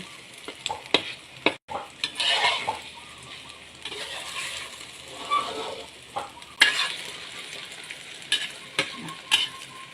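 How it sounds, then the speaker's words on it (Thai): Tomatoes fry and are stirred in a pan, a close sizzle broken by sharp scraping and tapping strokes at irregular intervals, with no talking. "ทอดแซ่บมะเขือเทศจ้ะเพื่อนหอม"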